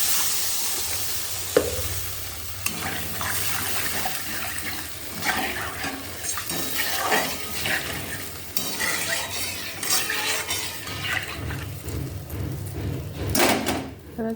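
Pointed gourd pieces go into spiced oil and are stirred and fried, a close sizzling hiss with scraping spatula strokes and clinks, then a gush of water near the end, no talking.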